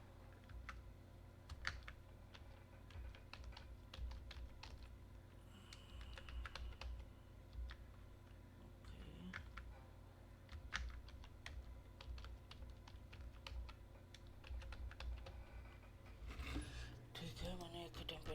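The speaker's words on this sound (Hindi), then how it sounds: "let's type something temporary password" Fingers tap a computer keyboard in quick irregular bursts of keystrokes, close and quiet over a faint room hum, entering a password, with brief speech in the background.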